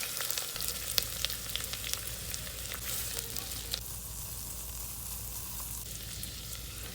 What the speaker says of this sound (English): First turn saute on and heat oil and fry sliced garlic. Then fry onions.